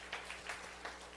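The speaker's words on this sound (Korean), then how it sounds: "우리 한번 격려의 박수 한번 해주시면 좋을 것 같습니다" A church congregation claps faintly to encourage the high-school youth group, a brief patter of applause heard from a distance.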